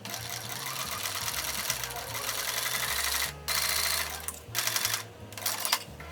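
A sewing machine stitches pin tucks in a spring garment in loud, fast mechanical runs. Brief pauses split the bursts, and the sewing starts again each time.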